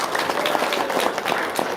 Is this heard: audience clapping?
yes